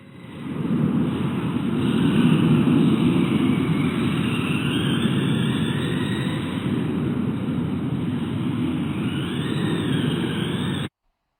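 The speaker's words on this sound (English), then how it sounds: "you'll hear me get back on the throttle about right here" Small RC car motor accelerating hard out of a corner on a racing track, a continuous loud whine and rush holding steady for about ten seconds before cutting off abruptly.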